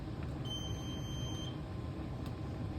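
Kitchen timer being set beside a pot of boiling water, giving a few quick, faint electronic beeps followed by a short steady tone over a quiet background hiss.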